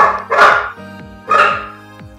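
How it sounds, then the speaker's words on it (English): Dogs bark at night in a home, two loud, close, sharp barks about a second apart, each trailing off with a faint ringing echo. "These dogs are going mental tonight."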